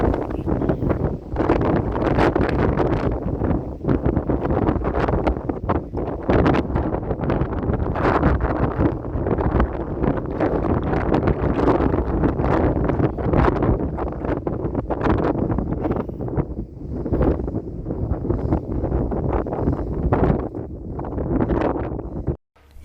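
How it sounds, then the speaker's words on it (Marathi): Strong, cold wind gusting steadily at the main gate of Chavand Fort, a hilltop fort, roaring and buffeting the microphone loudly and continuously with no voices. "येथे वाऱ्याचा झोत जास्त असून थंडगार वाऱ्यामुळे आलेला शिणवटा लगेच"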